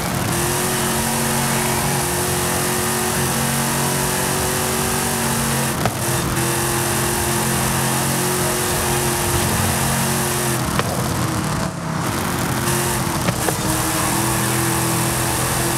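A 1967 Shelby GT500 with a 7-litre V8 roars steadily in a racing video game, the engine drone loud and continuous throughout with slight shifts in pitch, and no talk over it.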